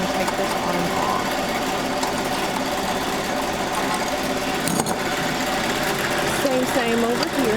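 An embroidery sewing machine runs at a steady, fast mechanical rhythm, close and continuous, with a voice speaking over it at times.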